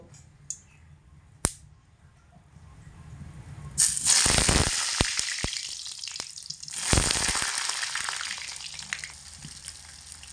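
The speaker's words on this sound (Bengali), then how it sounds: "আঁচটাকে মিডিয়ামে করে দিয়ে এবার এর মধ্যে কেটে রাখা আলুর পিসগুলোকে দিয়ে দেব।" Cut potato pieces go into hot mustard oil over a medium flame for a vegetarian aloo dum. A few quiet clicks give way to a sudden loud sizzle that eases and then surges again as they fry close by.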